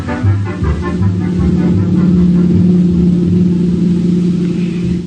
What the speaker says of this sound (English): Walter Denton's driving me down this morning